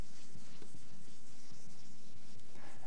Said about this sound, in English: I'm going to kind of erase a part of this anatomy